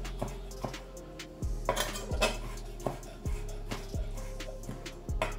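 A knife chopping ingredients on a board for a shrimp and potato salad, roughly six distinct knocks spaced about a second apart, close and clear over faint kitchen clatter.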